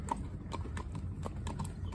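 A cob horse walks along with hooves clip-clopping in a quick, regular beat at close range, quiet and steady throughout.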